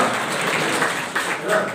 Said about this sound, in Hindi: ताली बजा के प्रभु की स्तुति करो